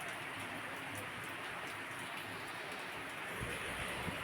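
Rain falls outdoors as a soft, steady hiss that stays even and fairly faint, with a few louder patters near the end.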